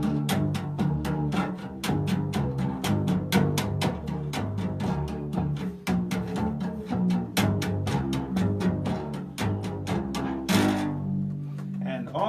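A homemade two-string washtub bass with braided wire strings, tuned to low G, is plucked in a steady, even rhythm of deep booming notes, played close and alone before cutting off abruptly near the end.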